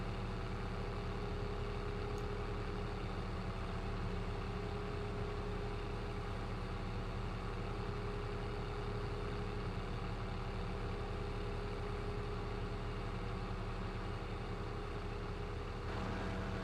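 Massey Ferguson tractor engine in Farming Simulator 25, a steady low diesel drone with a constant hum, running without change for a long stretch and no speech over it.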